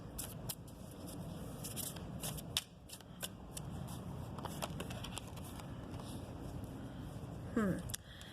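Tarot cards riffled and shuffled by hand in a steady, papery flutter lasting several seconds, close up, with a few sharper snaps along the way.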